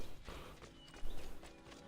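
Soft clip-clop of horse hooves at a slow walk in the video game Assassin's Creed 2, a few muffled steps over a low background rumble, fairly faint.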